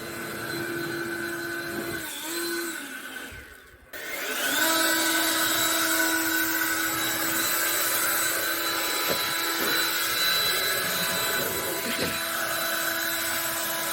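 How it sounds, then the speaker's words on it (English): Steady loud whirring of a power sander on paint on a 1978 Chevy C10 truck, a continuous drone that briefly drops out near the start, then returns and runs on unbroken. "A lot of sanding going on around here."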